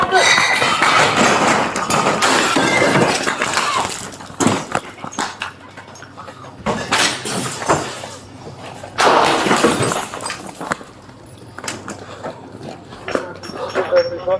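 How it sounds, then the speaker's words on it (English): Wine bottles shattering into broken glass on a supermarket floor during a police confrontation, with loud bursts of crashing glass interrupted by shouting voices and commotion. "This floor is now a skating rink of wine and broken glass."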